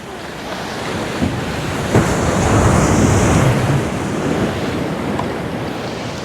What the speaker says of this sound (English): there's a good swell on this sea today